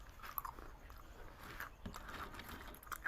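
Crispy fried banana chips, the thick and soft style, being bitten and chewed close up, with a few sharp crunches over a steady munching texture and no talking.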